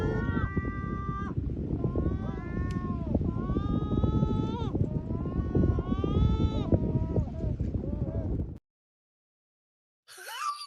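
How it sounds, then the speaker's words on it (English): Seagulls on the Algarve coast give a run of whining, mewing calls that sound much like cats, loud and close for about eight seconds, then a brief silence before a short final cry. "Seagulls pretending to be cats."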